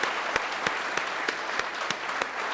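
Audience applause breaks out for a hockey team during a Pakistani cricket talk show. The clapping is steady and dense, with sharp individual claps standing out at regular intervals.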